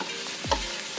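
Sweet chilli sauce made with fresh garlic, ginger and capsicum being stirred in a pan, with a few soft scraping strokes over a faint background sizzle.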